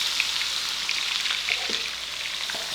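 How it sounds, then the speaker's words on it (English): Onions and mushrooms fry in a pan with a bright, continuous sizzle and crackle, close and steady, briefly flecked with small pops, no voices. "I'll go ahead and put in my onions and my mushrooms."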